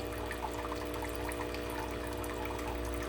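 Water flowing out of the boiler of a Senseo coffee maker during emptying, a steady close trickle and pour over a constant low machine hum.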